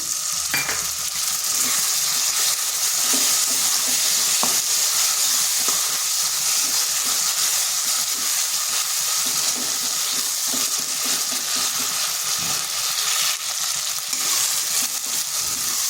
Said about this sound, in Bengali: মশলাটা যাতে পুড়ে না যায় তার জন্য সামান্য একটু জল দিচ্ছি।